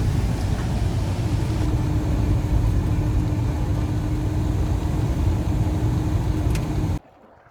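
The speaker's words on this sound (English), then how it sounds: "The car's running" A 2009 Hyundai Tucson with a newly replaced transmission runs steadily, its low engine rumble holding at a constant loud level for about seven seconds before cutting off abruptly; nobody speaks.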